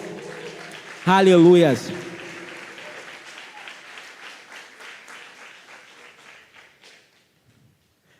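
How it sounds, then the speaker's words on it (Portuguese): A church congregation applauds during a sermon. A voice shouts loudly over the clapping near the start, and the applause then thins out and fades away to near silence. "Você pode dar um aplauso ao Senhor?"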